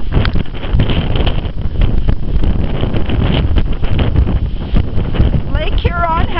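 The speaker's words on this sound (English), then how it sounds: "it's minus 3 degrees with that wind right out of the north" Cold north wind by Lake Huron buffets the microphone in heavy, continuous low rumbling gusts, loud and close, with a brief warbling tone near the end.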